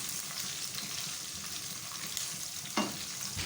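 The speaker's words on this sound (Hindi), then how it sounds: "जो हमने नारियल लिया है ये डाल दूँ। सिर्फ 1 मिनट के लिए इनको फ्राई करना है" Coconut pieces and nuts frying in a pan for sweet jaggery rice, a steady close sizzle with faint stirring and a brief clink of utensil near the end, no talk.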